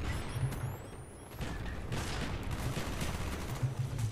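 Light machine gun fire in Call of Duty: Black Ops multiplayer, sustained rattling bursts and distant gunshots filling the whole stretch at moderate loudness, with no talking.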